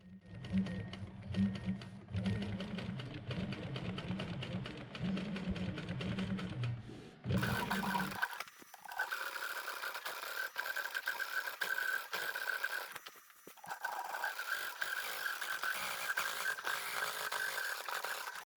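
A longarm quilting machine stitches along the ditch of a quilt, a steady mechanical whir with a continuous high tone that shifts pitch as the pace changes, close and fairly loud with no talk.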